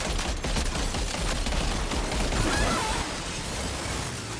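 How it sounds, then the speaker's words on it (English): A gun launcher fires in the video game Death Stranding 2: On The Beach, a dense, rapid crackling burst of mechanical shots that runs steadily for a few seconds and then thins out. "It's the gun launcher."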